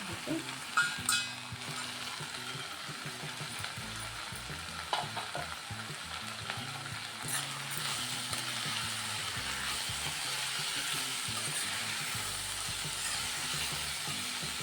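Cabbage, potato and peas fry in a pan with a steady crackling sizzle and scattered scraping clicks from stirring, which grow into a denser, continuous fry in the second half.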